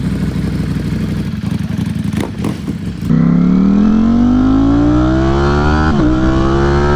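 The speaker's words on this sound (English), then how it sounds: "Oh, that Ducati sound, man." A Ducati Streetfighter V4 motorcycle engine, first a rough clattering idle, then a sharp loud rev that climbs steadily in pitch with a brief shift hiccup, close and alone.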